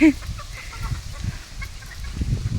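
A chicken's short call at the start, then soft scattered clucks over a low outdoor rumble.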